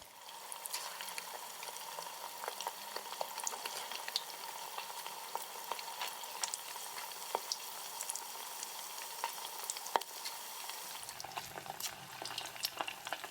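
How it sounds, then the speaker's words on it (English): Prawn and pork meatballs fry steadily in hot oil, a dense continuous sizzle with crackling pops, close and fairly loud, with a brief stir or shift near the end and no voices. "Allow the meatballs to be fried for about 30 seconds before stirring it."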